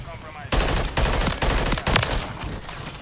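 Holger 556 assault rifle fitted with a burst fire conversion kit in Modern Warfare 3, firing repeated rapid bursts of loud, close gunshots in quick succession, each burst separated by brief pauses.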